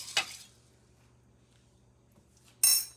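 Two brief scraping clinks of a spoon stirring rice in a pot on the stove, one at the start and one at the end, separated by near silence with a faint low hum.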